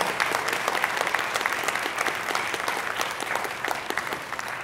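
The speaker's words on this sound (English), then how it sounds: "let's give him one more round of applause." A church congregation at a Sunday worship service applauds, with steady, sustained clapping that fills the room at a moderate level throughout.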